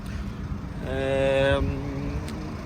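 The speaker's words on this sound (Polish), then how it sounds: "silnik pracuje ładnie" A Ford Focus 1.8 TDCi diesel engine runs with a steady low rumble throughout, joined midway by a short tonal hum that lasts under a second.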